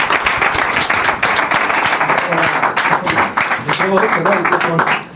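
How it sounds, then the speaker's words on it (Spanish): A live audience gives a guest a loud, continuous round of applause with rapid, dense clapping, and a few voices come through near the end. "Ernesto Castro, un aplauso para él."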